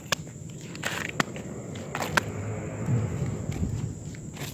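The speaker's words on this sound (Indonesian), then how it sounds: "suara langkah kaki." Footsteps walking outdoors among trees, among banana and mango trees, a few sharp nearby steps and crunches over a quiet rustling background, no talking.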